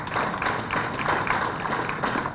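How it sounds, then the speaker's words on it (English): An audience at a Tempe high school all-city awards ceremony claps for the athletes' parents, producing an even, sustained wash of applause at moderate volume throughout. "Let's give your parents a round of applause if you could"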